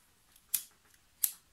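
Two sharp, bright clicks from a lighter being struck to light a candle, about 0.7 seconds apart, close and fairly quiet.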